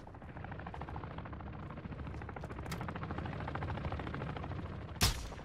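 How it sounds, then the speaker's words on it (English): Rapid bursts of gunfire crackle in a video game firefight over a steady helicopter rotor drone, with one sharp loud shot near the end and no talking. "There's someone shooting at that expo chopper."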